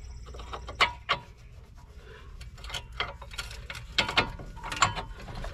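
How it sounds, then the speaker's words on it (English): Knuckle bolts are installed during a front CV axle replacement, with close metallic clicks and short ratcheting bursts in quick irregular clusters against a quiet garage background. "Go back and install these bolts."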